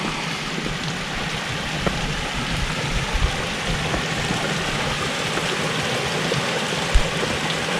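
Steady broadband rush of water only just trickling over a waterfall at The Cascades, Wadbilliga National Park, continuous and moderately loud, with a few brief splashes standing out.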